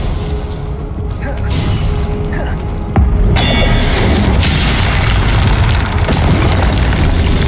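Blasts of the Confringo explosive spell in the Hogwarts Legacy video game: a sharp boom near the three-second mark, then a dense, loud rumble of spell impacts and combat noise running steadily to the end.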